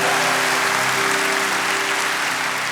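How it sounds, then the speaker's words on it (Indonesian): Loud, continuous congregation applause at a church rooftop inauguration in Surabaya, a dense wash of clapping with a faint sustained musical tone underneath. "Berikan tepuk tangan yang meriah untuk Tuhan."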